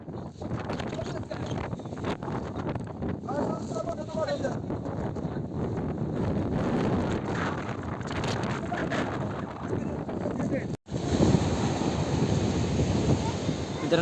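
Strong wind blows steadily across an open hilltop at Raigad fort and buffets the microphone with a continuous rushing roar, while a person talks over it.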